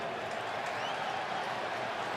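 Football stadium crowd at a Cowboys–Eagles game in Philadelphia, a steady dense roar of thousands reacting to the referee, broad and continuous with no single voice standing out.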